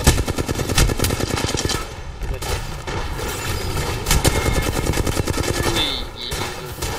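Dense, loud bursts of automatic gunfire in a shooter video game, rapid rounds rattling continuously for several seconds with hardly any pause.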